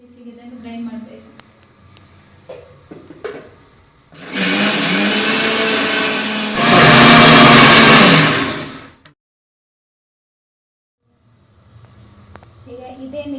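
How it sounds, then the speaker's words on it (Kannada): A kitchen mixer grinder grinds grated coconut with salt, whirring loudly for several seconds and rising in pitch before cutting off abruptly, with a voice talking before and after. "ಬಿಸಿಗೆ ಇದನ್ನು ಗ್ರೈಂಡ್ ಮಾಡಬೇಕು."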